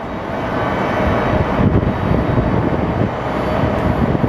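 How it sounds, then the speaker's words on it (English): A US Airways airliner in Heritage livery pushes back at Phoenix Sky Harbor Airport, its engines giving a steady loud roar with broadband rumble that stays constant throughout. "our US Airways flight is starting to push out"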